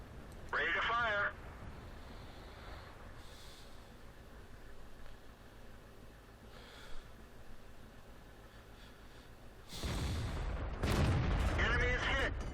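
In World of Tanks, a tank gun fires at an enemy tank with a booming blast near the end, preceded by a short burst and low rumbling engine ambience, with crew voice lines heard.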